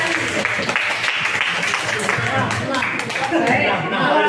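A group claps together in dense, continuous applause lasting several seconds, with voices chattering underneath; the individual claps are hard to count.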